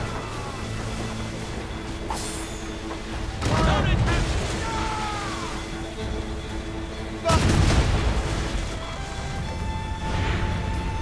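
Heavy ship cannons fire broadside in the Assassin's Creed Rogue naval game, two big booming volleys of several rolling shots each, set against steady sea and battle ambience with music-like tones.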